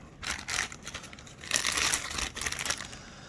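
A plastic bag of meat is cut open for pho, giving close, loud crinkling and rustling of plastic in several irregular bursts, with one longer crackling stretch in the middle.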